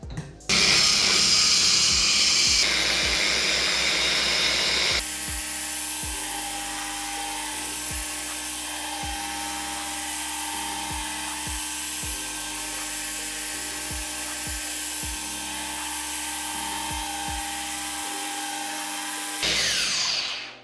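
A cheap car polisher runs with compound on a dry pad, a steady loud mechanical whine and hum lasting throughout, with a pitch shift early on and repeated rhythmic speed pulses, alone without talk.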